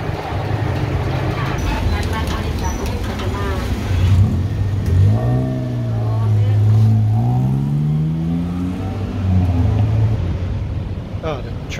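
Road traffic rumbles nearby in Bangkok as a bus engine revs and drones through the middle, with faint voices under the noise.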